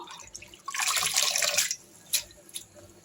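Water sloshes and splashes for about a second as arai keerai greens are swished in it, followed by a few scattered drips and small splashes.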